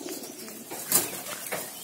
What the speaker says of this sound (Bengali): তো আজকে আমরা আমাদের কবুতরের কলোনিতে চলে আসছি।